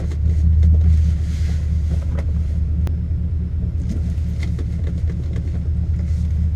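A Ford BA XR8 sedan rumbles through a hillclimb time run, its V8 engine a deep, steady low drone heard from inside the car with wind buffeting over it and a few faint clicks.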